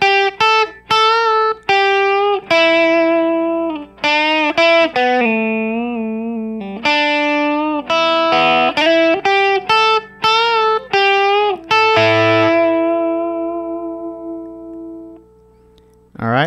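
A distorted electric guitar plays a blues line, a run of bent and sustained blues notes with short gaps between phrases, loud and alone, fading out on a final held note.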